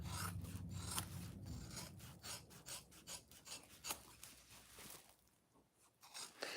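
Scissors snip and trim fabric for a homemade oven mitt, a quiet close series of crisp rhythmic cuts and rustles, with no talk.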